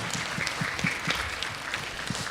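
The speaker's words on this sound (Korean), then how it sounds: "우리 다시 한번 하나님께 영광의 박수를 드리겠습니다." Congregation applauding during a Sunday afternoon church worship service, a steady patter of many hands clapping with irregular louder claps throughout, moderately distant and filling the hall.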